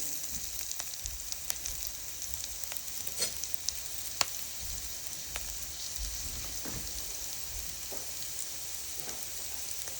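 Boiled cabbage frying in a pan for a Telugu-style cabbage curry, with a steady broadband sizzle and scattered sharp ticks and pops throughout, close and continuous with no voices.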